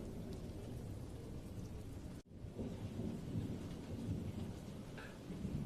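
Steady rain hisses over a low rumble of thunder, broken by one sharp crack midway, then continuing rain and rolling rumble.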